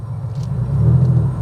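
Porsche 964 Carrera pulling away from a stop, a steady low engine rumble that swells slightly as it gets moving, heard close from inside the car.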